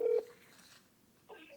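A phone dialing a call gives a single short, clear keypad tone at the start, then quiet, then a faint second tone near the end.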